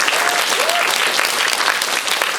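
Audience applause fills a cinema hall after a 20th-anniversary Q&A screening of the film A Tale of Two Sisters at the Busan International Film Festival, a dense, steady clapping from a large crowd throughout.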